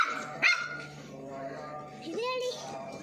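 A dog gives a sharp bark followed by a few whimpering yips, close by, while people talk over it.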